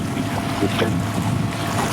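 Steady rushing water and wind noise from a boat moving through the water, a continuous wash without voices.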